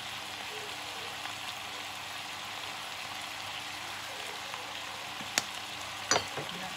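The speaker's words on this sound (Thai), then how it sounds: "แล้วก็พยายามคนให้ทั่วกันนะคะ" Mixed vegetables with crispy pork, seasoned with fish sauce and sesame oil, fry in a pan with a steady, close crackling sizzle throughout, broken near the end by a couple of sharp clinks of a utensil against the pan.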